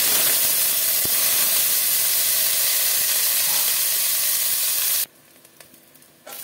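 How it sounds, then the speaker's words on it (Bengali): Eggplant frying in mustard oil hisses with a loud, dense sizzle for about five seconds, then cuts to near quiet with a few faint clinks. "বেগুনটা ভাজা হয়ে গেছে আমার, বেগুনটা তুলে নিলাম।"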